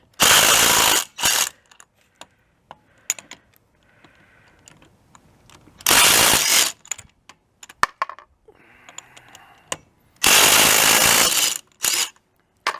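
A large Craftsman impact wrench takes lug nuts off a van in three loud bursts of rapid hammering rattle, with clicks, clinks and small metallic handling noises in between; no speech.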